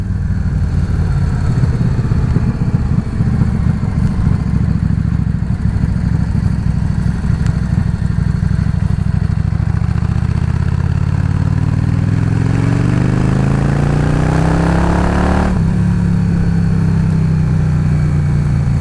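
A V-twin motorcycle engine idles steadily, then revs up with a rising pitch before dropping back, a deep uneven thumping throughout, close and loud.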